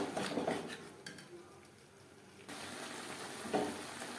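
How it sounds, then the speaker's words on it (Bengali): Peas and potatoes are stirred together in a pan for matar paneer, a spoon scraping and clinking against the metal in short bursts over a soft frying sizzle, with a quieter stretch in the middle. "মটর, আলু মটর সবজির সাথে বেশ ভালো করে মিক্সড করে দেব।"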